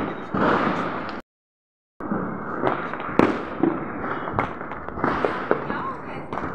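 Firecrackers going off at a fireworks show, heard as a dense crackle of sharp pops and bangs with a crowd's noise underneath and a brief gap of silence.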